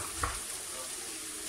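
Steady sizzling of onions and sausage frying in a pan, with a brief stir near the start and no talking.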